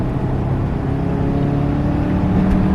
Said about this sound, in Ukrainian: Третя передача 3000 обертів зараз тапку в кол.